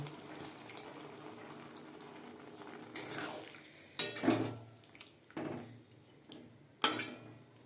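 Water from a bowl poured into a pan of spices being cooked for shim paturi, splashing in a few short bursts with clinks of cookware in a quiet kitchen.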